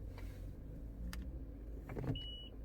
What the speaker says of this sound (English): the car is already turned on